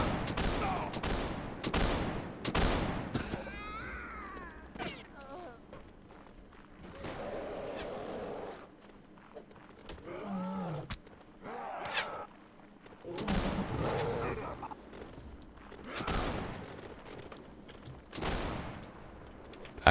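Gunfire from the video game Warsword Conquest: repeated sharp shots and ragged volleys burst out loudly at irregular intervals, with quieter shuffling and movement between them.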